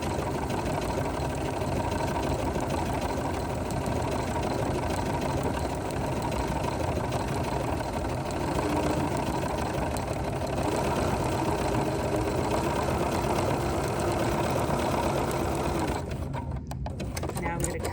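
A home sewing machine stitches a straight line down the middle of a quilt seam on a small sweet little quilt, its steady close whirring motor running continuously for most of the stretch before cutting off near the end.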